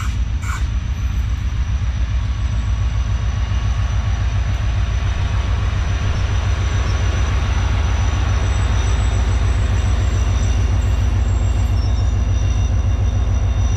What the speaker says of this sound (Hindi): तो ये आ गई बिल्कुल मेरे सामने से HM30 के साथ 150 डाउन मेहरान एक्सप्रेस।